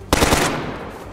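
An RPK machine gun fires a rapid, loud burst of about four or five shots in DayZ, then cuts off abruptly, leaving a fading echo and no talk.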